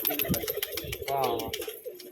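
Native pigeons coo softly in low, rolling calls while people talk nearby.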